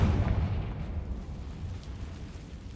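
A Confringo fire spell bursts in Hogwarts Legacy, a single low, rumbling blast that starts loud up close and then rolls and fades slowly across the rest of the clip.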